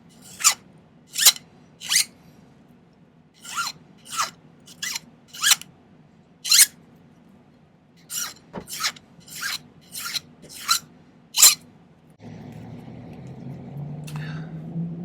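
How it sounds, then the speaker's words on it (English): Hand file rasping the tapered end of a silver bracelet wire on a silversmith's bench, a steady series of short, sharp strokes repeated about a dozen times, then a lower rumbling noise takes over. "I should probably file that off."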